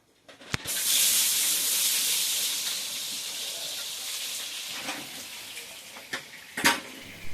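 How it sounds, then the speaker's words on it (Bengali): Pointed gourd (potol) fries in hot oil in a wok, a broad steady hiss that swells early and slowly eases, with a few sharp utensil clicks near the end. "প্রথমেই আমি কড়াইতে তেল বসিয়ে দিয়েছি, পটলগুলো ভেজে নেব তাই।"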